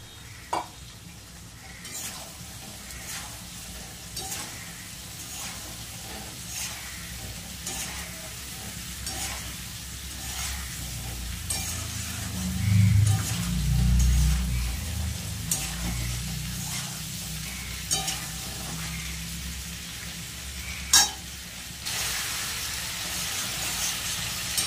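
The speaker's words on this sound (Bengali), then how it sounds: "মশলা কিন্তু ভালো করে কষে গেছে।" Fried cauliflower, potato and pointed gourd stir-frying in spices in a pan, a continuous soft sizzle with repeated scraping and stirring strokes and an occasional clank of utensil on pot, close but fairly quiet, no talking.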